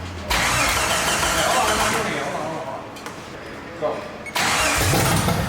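A 1988 Jeep Wrangler YJ engine cranks and catches, settling into a loud steady run after a short break in the middle, with a brief voice heard near the start.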